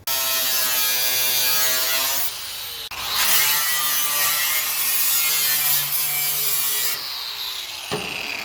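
Metal being cut for mini tubs on a 1973-91 squarebody GM truck, a loud, continuous whining cut with a steady rasp that runs nearly unbroken, dipping briefly near the middle and again toward the end.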